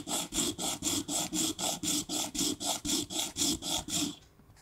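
A Warwick Alien acoustic bass piezo bridge saddle is rubbed flat on sandpaper in about sixteen even back-and-forth strokes, a close, rhythmic rasping scrape that stops near the end.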